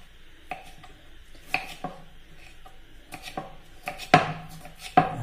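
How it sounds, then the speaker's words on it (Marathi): Knife chopping tomatoes finely on a board, heard as a series of sharp, close, irregular cuts with short pauses between them, growing more forceful near the end, with no voices. "टोमॅटो पण असंच बारीक चिरायचं."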